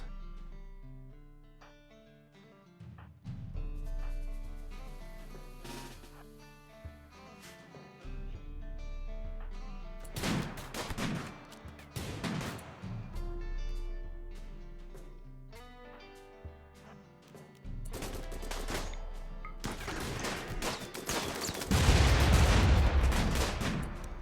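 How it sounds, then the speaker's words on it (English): A triple rocket launcher fires during a tribal-start battle in a cold bog map in Rimworld, with several loud bursts of blasts and gunfire striking over game music, the heaviest salvo rolling in near the end. "somebody just used a triple rocket launcher there"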